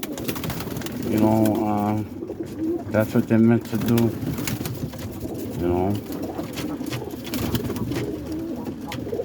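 Roller pigeons coo in a kit box, low throaty calls rising in several bursts close by, while someone talks over them.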